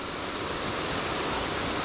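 Waterfall at Davidson's Linn, a steady, dense rush of falling water heard close and continuous, with no voices.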